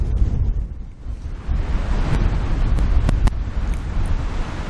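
Strong wind buffets the microphone on a golf course, a steady roaring rush that swells and dips throughout, loud and close with no voices.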